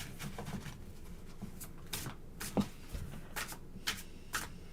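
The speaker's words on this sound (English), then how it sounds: "he's having me shuffle his deck" A deck of tarot cards shuffled by hand close up, several quick crisp riffling bursts over a low steady room hum, no voices.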